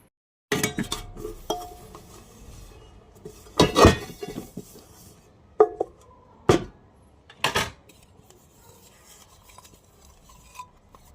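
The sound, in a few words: washed dishes and pots being handled and put away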